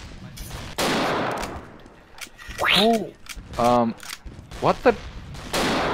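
Gunfire from a gun-carrying dinosaur in a video game: a few loud broadband bursts near the start and end, under excited voices that talk and exclaim over the action.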